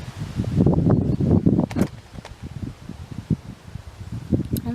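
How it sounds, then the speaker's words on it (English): Gusty wind buffets and rushes across the microphone in uneven bursts, loudest early on, with rustling underneath. "it's getting really windy"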